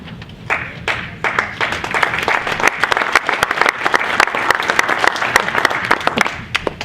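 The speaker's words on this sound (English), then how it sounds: "Hold your applause." Dense, steady applause from an audience at a Boston startup showcase evening, loud and sustained throughout with many overlapping claps.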